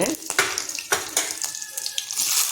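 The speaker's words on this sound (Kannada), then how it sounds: "ಇದರಲ್ಲಿ ಸಾಸಿವೆ ಚಿಟ್ಗುಟ್ಟಿದೆ ಇದಕ್ಕೆ ಮೆಣಸಿನ್ಕಾಯಿ ಹಾಕ್ತಾಯಿದ್ದೀನಿ" Mustard seeds splutter in hot oil in a pan as green chillies go in, giving close, sharp crackling pops and hissy bursts at irregular intervals for a couple of seconds.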